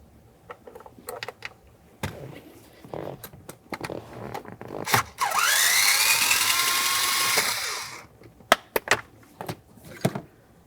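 Power screwdriver whirring out Torx screws from the steering column shell of a 2006-2012 Ford Fusion, one sustained rising whine in the middle, surrounded by sharp clicks and tool handling, close up.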